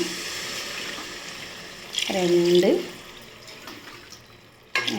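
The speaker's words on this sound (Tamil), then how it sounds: "நான் இந்த கிளாஸ் தண்ணி அளவு சேர்த்துக்கிறேன்" A glass of water poured onto basmati rice for biryani makes a brief splashing gurgle in the middle of a quiet kitchen, with a voice counting softly nearby.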